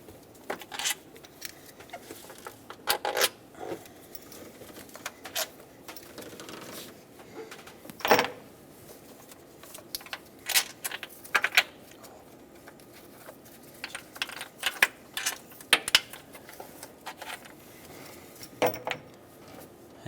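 Intake manifold bolts come off the 5.4L V8 engine of a 2008-2010 Ford F250 Super Duty, with scattered sharp metallic clicks, ratchet ticks and clinks of loose bolts set down, fairly close and otherwise quiet.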